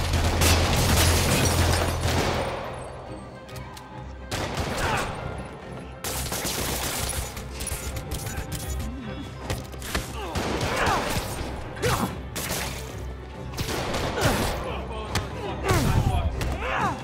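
Thugs opening fire in Marvel's Spider-Man Remastered, a loud sustained burst of rapid gunfire and booms that keeps rattling throughout, with shouted voices in between.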